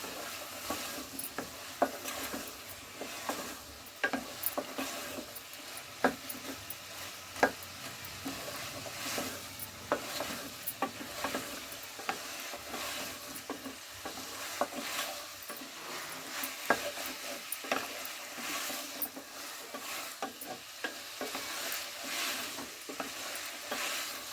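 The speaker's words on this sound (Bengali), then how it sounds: "আমি ভালোভাবে শিম ও পেঁয়াজ কলি কষিয়ে নিচ্ছি।" Flat beans and onion greens are sautéed with ground spices, a quiet steady sizzle broken by frequent scraping clicks of a spatula stirring against the pan, close and unhurried, no speech.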